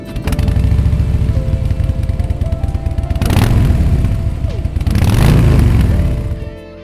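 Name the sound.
Harley-Davidson Fat Boy motorcycle exhaust pipes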